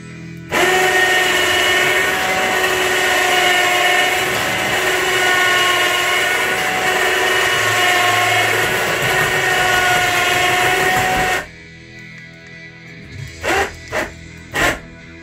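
A DIY electric bed lift motor lowers a bed with a loud, steady mechanical whine and hum that runs for about eleven seconds, then cuts off, followed by a few brief knocks and clicks.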